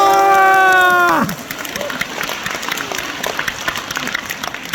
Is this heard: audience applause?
yes